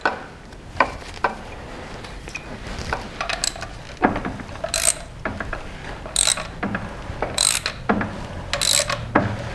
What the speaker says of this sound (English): I'm going to spin the motor over again.